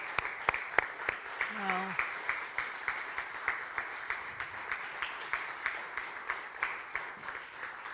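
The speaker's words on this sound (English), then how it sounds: "that applause just shows the support" Conference audience applause, a fairly faint, even patter of many hands clapping in a steady rhythm, with a brief exclamation early on.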